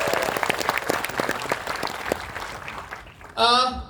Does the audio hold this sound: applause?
yes